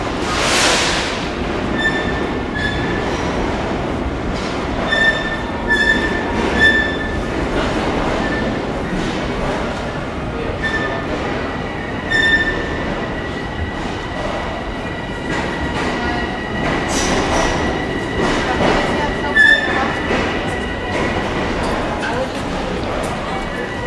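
An M7 commuter train pulls into Moynihan Station in New York with a steady rumble and recurring metallic squeals and tones, heard from the platform amid echoing station ambience and faint voices.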